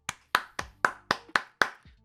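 Seven sharp hand claps ring out close and clear, one after another at a steady, even pace. A faint eighth clap comes at the end, and nothing else is heard.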